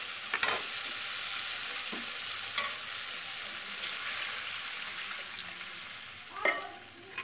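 Green chillies and fish frying in hot oil for tel koi, a steady continuous sizzle throughout with a few soft stirring clatters of the spoon against the pan, no voices.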